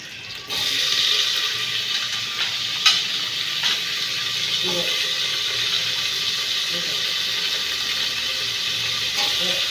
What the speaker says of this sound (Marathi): टमॅटो छान भाजून घेते.